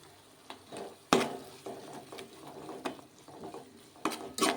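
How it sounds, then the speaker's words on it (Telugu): Onion fries with salt and turmeric in a pan, under a quiet sizzle, with sharp, irregular spatula scrapes and clinks against the pan. "ఈ ఉప్పు పసుపులోని ఉల్లిపాయ బాగా ఎర్రగా వచ్చేంతవరకు ఫ్రై చేసుకుందాం"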